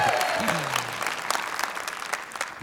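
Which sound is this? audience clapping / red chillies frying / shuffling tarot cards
audience clapping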